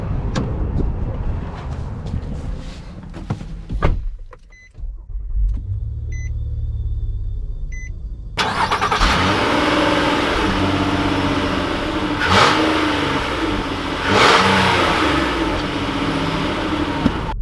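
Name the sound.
2020 Nissan Murano Platinum engine while driving off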